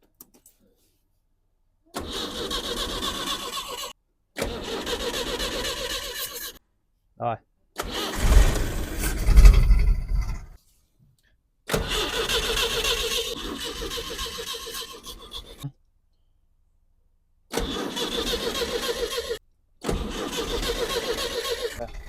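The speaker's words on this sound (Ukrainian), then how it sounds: "Так, попитка номер два. Завести цю жабу." A GAZ-24 Volga car with a hard-starting engine cranks in repeated bursts separated by silent gaps, with one louder, rougher attempt midway; talk and laughter mix in between.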